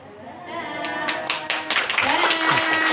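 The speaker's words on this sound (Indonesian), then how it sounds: "Tepuk tangannya." Audience at a storytelling competition claps, building from a few scattered claps into fuller applause, with voices and a child's call over the top.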